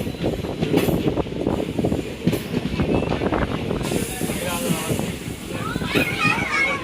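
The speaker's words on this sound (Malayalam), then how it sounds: "ഇപ്പോൾ ട്രെയിൻ മൂവ് ചെയ്ത് തുടങ്ങി." A night train on the Rameswaram line near the Pamban bridge pulls away from a small station, rolling with a steady, close rumble and hiss throughout while voices murmur over it.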